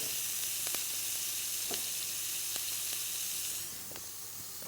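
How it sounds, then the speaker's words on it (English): Fish fillet searing undisturbed in a hot pan gives a steady, loud, close sizzle that holds evenly, with a few faint pops and a slight drop in intensity near the end. No voices. "it's really important that you don't move the fish for the first minute because you want the crust to develop"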